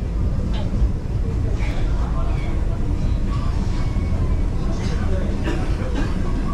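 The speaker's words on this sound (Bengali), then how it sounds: "স্টেশন ঢুকছি একটু পরেই ট্রেন দাঁড়াবে" Inside a Vande Bharat Express easing into a station, a steady, loud low rumble of the rolling train fills the car, with faint murmuring voices and babble underneath.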